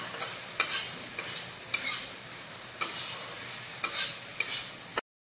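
Chicken cooked down with a little garam masala is stirred in a pan, a spatula scraping in several sharp, irregular strokes over a soft, steady sizzle, close and fairly quiet, with no voices.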